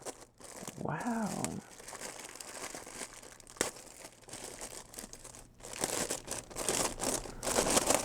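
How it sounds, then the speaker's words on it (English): Plastic packaging crinkles and tears as it is pulled off a Fancy Lux calculator with an acrylic stand, close and busy, with a person talking briefly near the start. "Let's take the packaging off."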